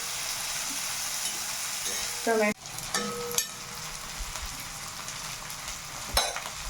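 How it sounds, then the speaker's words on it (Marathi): Tomatoes and chilies fry in a pan with a steady, loud sizzle throughout, broken by a clatter of a utensil midway and a few scraping stirs. "टोमॅटो शिजू द्यायचा आहे मिरचे मिरचे वगैरे फ्राय होऊ द्यायचे चांगले"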